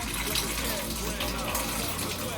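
Tap water running steadily through a Pur faucet-mounted filter, a continuous close hiss of flowing water with no break.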